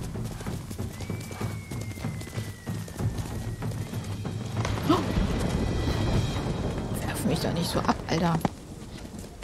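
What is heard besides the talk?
horse galloping in a video game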